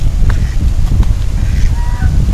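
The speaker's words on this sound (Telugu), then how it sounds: "ఇక్కడ చూస్తే డక్స్ అన్నీ ఉన్నాయి చూడండి" Ducks and geese honk in short scattered calls over a noisy outdoor background at Horsley Hills, several birds calling close by.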